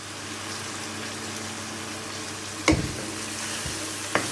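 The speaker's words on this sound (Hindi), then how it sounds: "आप इसे अच्छे से चम्मच चला लीजिए।" Red chilli powder and turmeric fry in oil in a pan for shahi chicken korma with a steady, even sizzle. A spoon knocks against the pan twice while stirring, and no one speaks.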